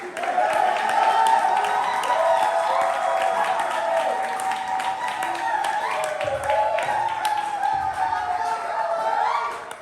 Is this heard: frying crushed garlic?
no